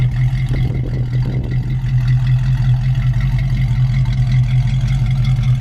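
A 1967 Ford Mustang convertible's 289 V8 idles steadily with a deep low rumble and a constant hum, loud and close, with a brief clatter near the start.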